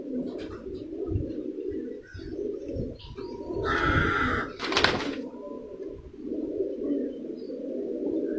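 Racing pigeon that competes in long-distance flying contests, giving repeated low throaty coos close by, with brief pauses between bursts, one sharp clatter, and a short rustling burst midway.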